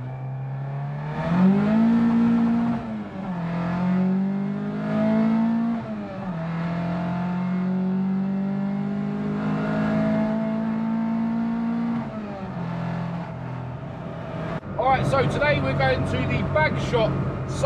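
Honda VTEC turbo car engine idling and revving in repeated rising swells, close and loud, settling into a steady drone before sharper crackling noises near the end.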